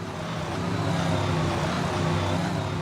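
The Stomper Bully monster truck's engine crawling over cars at a 1985 Indy show, a steady low throbbing rumble at moderate distance with no voices.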